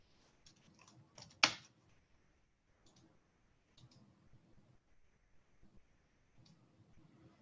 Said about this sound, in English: And so I would type in La Boucherie.